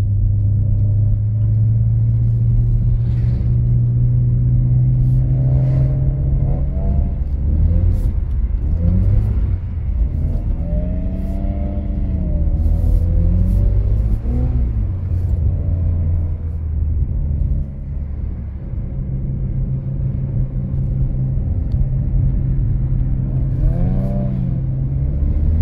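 BMW E46 engine revving and droning steadily while drifting on a snowy winter course, loud and close, with the pitch rising and falling as the throttle is worked over a constant low rumble.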